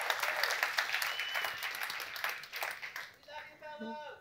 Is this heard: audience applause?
yes